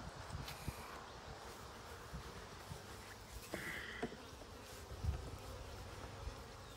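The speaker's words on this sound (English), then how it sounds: "Bees are starting to get irritable again." Honey bees buzzing around an open beehive in a beeyard, a soft, continuous droning hum with faint scattered clicks and rustles, heard at low volume.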